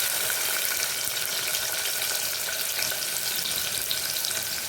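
Onion and spices frying in hot ghee for chicken biryani, a steady, even sizzle that continues without a break and with no talking.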